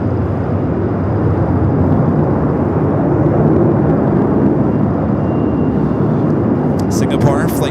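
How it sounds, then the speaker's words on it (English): An Air New Zealand Boeing 777-300ER takes off at Los Angeles International Airport, its engines a loud, steady, broadband roar that holds for the whole stretch, with a voice talking over it. "Next takeoff, followed by Air New Zealand flight 3 heading back to Auckland on that 777 at"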